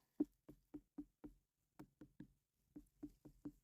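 Knuckle knocks on a large garden-grown fruit to test its ripeness, about a dozen short hollow raps in two quick groups, close and quiet, with no voices.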